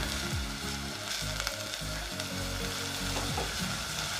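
Whole garam masala and cumin seeds sizzle steadily in hot oil for Matke ki Phalli, a dense close crackle with repeated low clinks and scrapes of a spoon against the pan.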